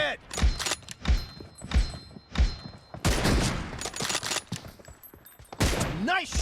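Repeated heavy gunshots in the mobile battle royale game BGMI, several loud single booms followed by denser bursts of fire, close and punchy, with in-game effects in between.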